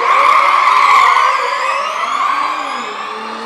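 Electric race cars pull away at the race start in Monaco, a loud, close, high electric whine with layered pitches that rise and fall, then fade toward a lower, fainter tone.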